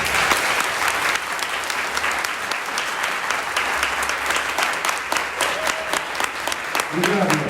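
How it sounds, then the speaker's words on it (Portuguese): Congregation applauding the pastors at a church worship service, loud continuous clapping with sharp individual claps standing out and voices mixed in underneath. "Vamos aplaudir os pastores?"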